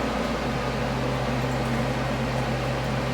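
A sewing machine stitches paper-pieced quilt block pieces together, its motor giving a steady, close, unbroken whirring hum from start to finish with no voices.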